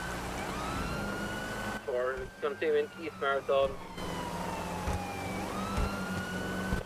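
A police car siren wails in a video game roleplay, a steady rising and falling tone heard before and after a short stretch of talk over a radio.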